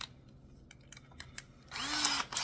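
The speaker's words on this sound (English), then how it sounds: "put a drill bit back in here." A power drill fitted with a drill bit runs in a short, loud burst against pallet wood during a shelf build, following a stretch of quieter handling clicks and taps.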